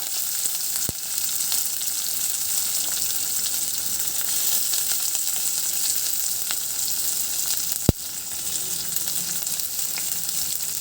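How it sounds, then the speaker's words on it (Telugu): Onions with green chillies sizzle and fry steadily in a pan, a constant close hiss filling the scene, broken by two sharp clicks or taps and no talking. "ఉల్లిగడ్డ వేగడానికి ఇలా కొంచెం కలర్ చేంజ్ అయిన తర్వాత"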